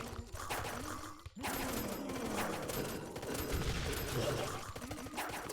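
Rapid gunfire in the video game The Last Island, a dense run of loud shots with a brief break, then continuing bursts over busy game sound.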